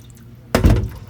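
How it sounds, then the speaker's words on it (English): Water being drained off raw meat that was rinsed for Trinidadian pelau, heard as one sudden close splash and gush after a quiet lead-in, fading over about half a second. "And so now what we're going to do is just drain that water out"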